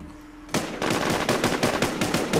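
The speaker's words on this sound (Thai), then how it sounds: "โอ้โหยิงเป็นประทัดจุดจีนเลย" Rapid automatic gunfire in the survival shooter game Infestation, a sudden loud burst of fast repeated shots that starts after a brief quiet moment and continues steadily without talking.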